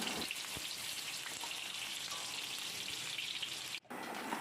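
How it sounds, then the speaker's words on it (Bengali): Parboiled potato pieces fry in hot oil with a continuous, fairly quiet crackling hiss that drops out briefly just before the end. "এবারে আমি ওই তেলের মধ্যেই আমি আলুগুলোকে দিয়ে দিচ্ছি।"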